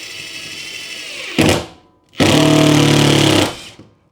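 Two bursts of a loud power drill driving concrete screws: a short whir, a pause, then a longer steady grinding run of about a second, close by with no talking.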